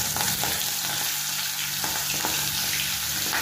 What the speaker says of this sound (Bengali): এবার এগুলো এক এক করে ভেজে নেওয়ার পালা।